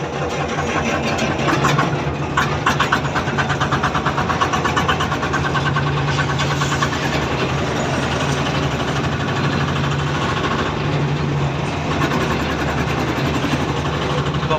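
A car engine runs steadily and loudly from up close throughout a test drive after a clutch replacement on a car that had been losing fourth and fifth gear.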